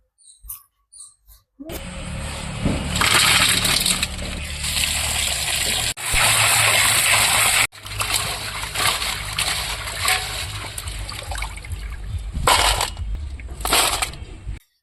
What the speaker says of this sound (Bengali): তো এখন মাছগুলো ভালো করে বন্ধুরা ধুয়ে নিয়ে আসি পরিষ্কার করে